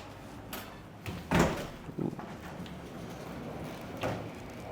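Sliding doors in the second bedroom of a central Tokyo apartment are slid shut, giving a few soft rolling thuds and one firmer knock around the middle, with quiet room tone in between.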